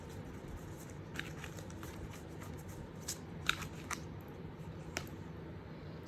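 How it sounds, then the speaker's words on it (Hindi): Cards being shuffled during a card reading, a faint soft riffling and flicking with a few sharper snaps, quiet and close with no talking. "लेते हैं कुछ और कार्ड्स।"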